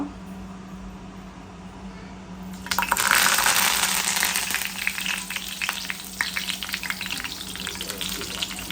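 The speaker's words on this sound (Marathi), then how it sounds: "इकडे माझ्या कूचे पॉम्फ्रेट फ्राय करते." Pomfret fish fries in a pan in a home kitchen. A quiet background hum gives way to a sudden loud, bright sizzle that keeps crackling and spitting steadily after that.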